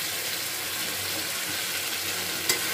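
Ghee and garam masala being stirred into a Bengali doi potol gravy of pointed gourd and yogurt, with a steady close sizzle and faint scraping throughout and one sharp clink near the end.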